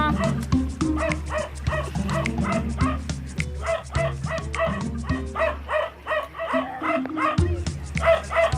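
A lively dog on an island barks and yips repeatedly in quick rhythmic bursts, loud and close, with occasional whimpers and a rooster faintly in the background.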